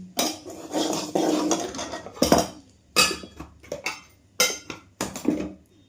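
Metal cooking pots, lids and utensils being shifted aside in a home kitchen during cooking, a series of close clanks, clinks and scraping knocks in irregular bursts, with no talk.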